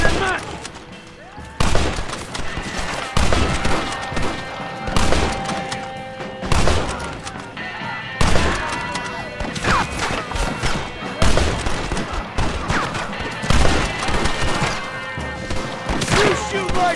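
A Red Dead Redemption gunfight: repeated heavy shots and volleys with thuds and crashes, under shouted voices throughout.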